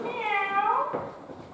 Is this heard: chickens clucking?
no